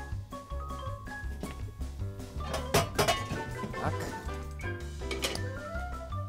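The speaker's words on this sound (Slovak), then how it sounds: "Zoberieme hrniec." A cooking pot picked up and handled in a kitchen, giving metallic clinks and knocks over steady background music.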